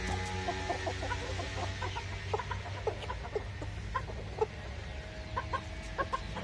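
Imported ornamental-breed hens cluck in scattered short bursts over a steady low hum, with a few sharper calls from a rooster nearby; no talking.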